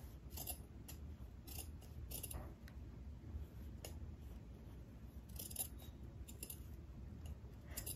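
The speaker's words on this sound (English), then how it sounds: "now I will trim the extra fabric I have here" Scissors snip through excess fabric beside a stitched fold line on a sewing yoke, a run of small crisp cuts close up over a steady low background hum.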